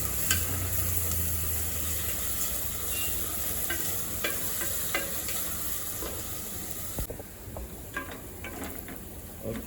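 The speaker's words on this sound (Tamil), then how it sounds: "நல்லா வெங்காயம் ப்ரௌன் கலரில் ஆகிற அளவுக்கு வதக்கி விடுங்க" Onions sautéing until brown for prawn biryani, a steady close sizzle with repeated clicks and scrapes of a spoon stirring, a low hum early on, and a slightly quieter sizzle toward the end.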